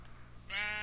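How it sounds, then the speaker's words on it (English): A single sheep in Minecraft gives a short, close bleat that swells quickly in the second half of a brief moment. "Is that a sheep? It is a sheep."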